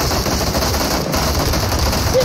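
Gunfire aimed at the sky in PUBG, rapid bursts of shots blending into a dense, steady rattle over loud game ambience, with no talk during the shooting.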